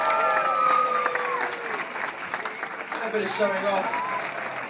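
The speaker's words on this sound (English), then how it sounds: "Now we're going to give Mitchie a big round of applause." An audience at a zoo seal show claps for the performing seal, with someone talking over the broad wash of applause and a whistle-like tone near the start.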